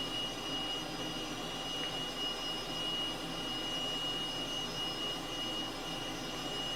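A simulated Cessna T-37B Tweet jet in Microsoft Flight Simulator idles while taxiing, giving off a faint, steady turbine whine with a thin high tone over a soft low hum, constant and unbroken.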